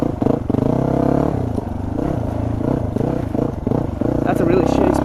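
A dual sport motorcycle ridden off-road through a muddy pit, its engine droning steadily, with rough clatter and bumps from the terrain and a voice talking over it throughout.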